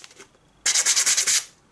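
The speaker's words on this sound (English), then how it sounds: "we do need to sand this flat surface in here and the inside of the wing as well" A rough sanding pad scrubs a foam wing on a small Eachine Black Wing model, giving a burst of about eight quick, close, rhythmic rasping strokes after a near-silent lead-in.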